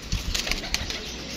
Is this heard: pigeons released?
yes